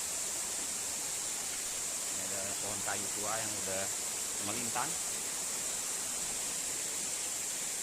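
Waterfall water pours over large rocks in the Lembah Seulawah valley of Aceh Besar, a steady broadband rushing roar that fills the clip while someone speaks briefly in the middle.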